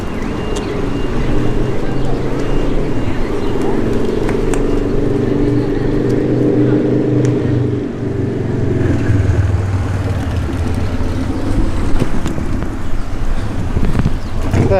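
Boat motoring on the Wroxham Broads, a steady low engine drone with water and wind noise running throughout, heard close and continuous.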